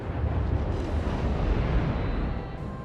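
Naval gunfire and shell impacts on an island in the World of Warships game, a dense continuous roar of booms and rumbling blasts that stays loud throughout and eases slightly near the end.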